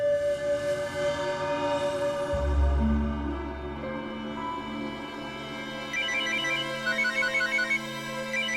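A phone rings late at night in a home. A tonal ringtone melody sounds at moderate distance with a brief low thump partway through, then repeating beeping patterns near the end. There is no talk over it.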